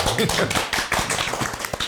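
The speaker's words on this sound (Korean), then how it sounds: "한 번 더 박수." Brief burst of studio clapping from a small group in an indoor recording setting, sharp uneven claps in quick succession lasting under two seconds, close and fairly loud.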